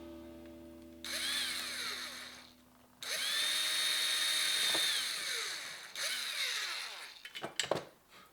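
A power drill whines in several bursts, drilling a hole in the wooden fin of a fish decoy, revving up and holding steady before stopping, with clattering and handling noises toward the end.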